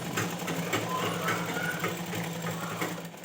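A sewing machine runs a continuous double line of stitching along the joint of an umbrella ghagra, a steady low motor hum with rapid needle ticking throughout.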